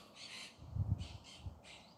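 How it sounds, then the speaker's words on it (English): Crows calling outdoors: a few harsh, loud caws in separate bursts, one near the start and a quick cluster of two or three later, over low rumbling background noise, with no speech. "birds ruining my video."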